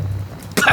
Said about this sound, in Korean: 이모기가 비틀거리며 기침을 해댔어요